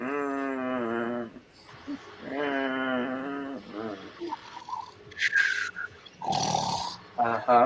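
A voice imitates a loud, drawn-out snore twice, rumbling and nasal, followed by scattered clicks, rustles and brief noisy bursts.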